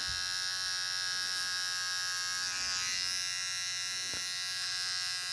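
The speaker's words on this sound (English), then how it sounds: "Gives my trimmer a little extra to grab onto. Creates a little cleaner look." An electric hair trimmer buzzes steadily and close up while cutting a child's hair during a haircut, its hum continuous throughout with slight shifts as it moves across the head.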